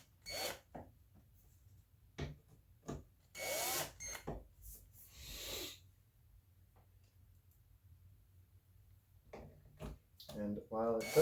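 Tiny screws are driven by hand into a partly disassembled analog synthesizer keyboard, giving faint scattered clicks and scraping turns close by, with a voice speaking briefly.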